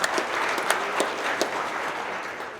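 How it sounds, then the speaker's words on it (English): A crowd applauds steadily at a company monthly celebration, a dense wash of clapping with a few sharper claps standing out, fading slightly toward the end. "Let's give them a round of applause."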